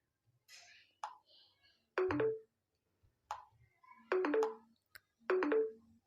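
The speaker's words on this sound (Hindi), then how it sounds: "तो अब आप देख सकते हो यहाँ पे नोटिफिकेशंस का टोन बज रहा है" A WhatsApp message notification tone chimes from a phone three times in short, separate bursts, clear and close, with small clicks and near silence between the tones.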